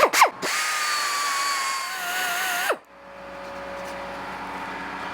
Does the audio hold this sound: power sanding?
yes